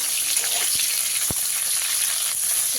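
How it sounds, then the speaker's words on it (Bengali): Sliced bitter gourd frying in hot oil, a steady loud sizzle with a couple of faint clinks from a utensil in the pan. "সব শেষে ভেজে নিতে হবে কেটে রাখা উচ্ছেগুলো"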